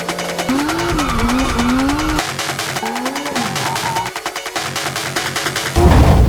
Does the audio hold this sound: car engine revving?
yes